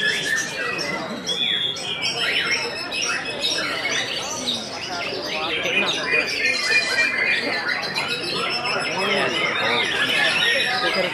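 A tame oriental magpie-robin calls repeatedly with loud, busy squawks and chirps close by, while people talk over it throughout.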